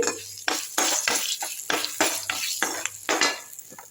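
Dried red chillies and curry leaves sputtering in hot oil for a tempering for coconut chutney, with repeated loud bursts of crackling sizzle in an uneven rhythm, close and clear, under a faint kitchen hum.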